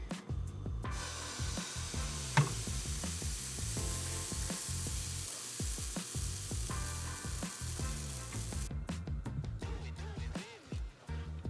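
High-protein pancake batter frying on a hot skillet over medium-low heat, a steady close sizzle running throughout with soft scraping and stirring touches and one brief sharp knock.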